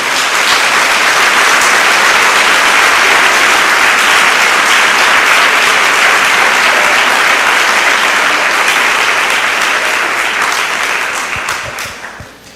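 A church congregation claps steadily and loudly in sustained, dense applause for about twelve seconds, fading out at the end.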